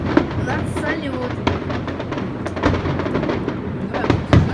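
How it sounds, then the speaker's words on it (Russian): A fireworks display of salute shells bursts repeatedly, a rapid series of sharp bangs and crackles over a continuous rumbling roar, with people talking nearby. "У нас салют."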